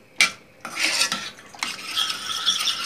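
A spoon scrapes and stirs cream sauce with morels in a pan, close and clear, in several uneven strokes with a sharp clink at the start and steady rasping stirring afterward.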